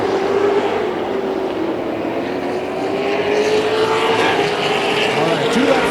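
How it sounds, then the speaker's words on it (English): Big 8 late model race cars in a 10-lap heat race at Tomah-Sparta Speedway, a continuous loud engine roar with a rising and falling pitch as cars pass, under a crowd-like background. "2 laps left to go in this 10-lap heat race with the Big 8 late models here at Tomah-Sparta Speedway"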